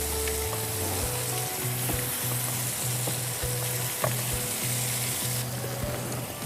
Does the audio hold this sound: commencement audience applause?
no